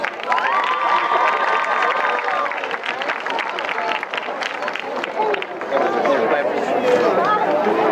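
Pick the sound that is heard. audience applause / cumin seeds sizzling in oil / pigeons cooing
audience applause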